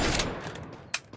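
A few gunshots in the Free Fire battle game, a dense burst at the start followed by one sharp, louder shot near the end, with no talk over them.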